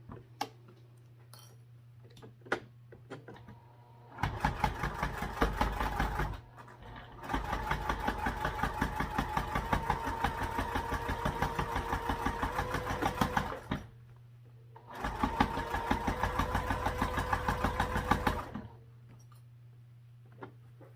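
A sewing machine stitches in rapid, steady bursts, starting and stopping several times with quiet pauses between runs, close and fairly loud.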